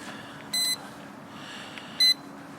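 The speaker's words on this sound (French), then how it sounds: "des bips vont retentir, ça veut dire que le mode CF est bien en marche" Two short electronic beeps from a WLtoys V636 drone remote control, about a second and a half apart, sound clearly over a quiet hum.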